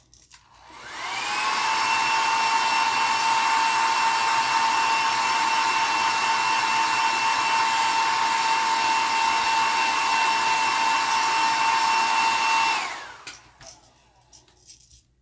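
A heat gun blows steadily for about twelve seconds while heat-setting paint on a crawfish fishing lure, a loud, even whooshing roar with a faint whine that starts and stops abruptly, then near silence.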